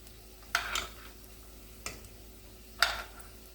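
Plantains frying in hot oil during a coconut plantain recipe, giving a faint steady sizzle broken by three brief louder bursts of crackle and stirring.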